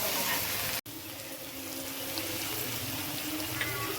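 Yellow, red and green bell peppers with green chili pieces fry in a pan, a steady continuous sizzle with a faint watery hiss, unbroken except for a momentary dropout near the start.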